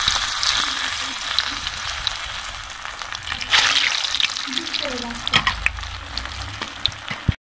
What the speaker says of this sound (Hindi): घी गर्म हो गया और टिंडा भी हमने सिलाई कर लिया और इसको घी में रख देंगे